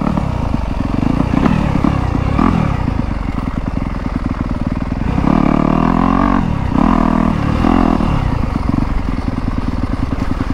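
A Yamaha YZ250F dirt bike ridden along a trail, its engine loud and close throughout, revving up and down in bursts with rattles and clatter from the rough ground.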